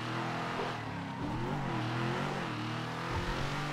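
A car engine revs and drives by at mid pitch, rising and falling in a steady rumble over about four seconds, with nobody speaking.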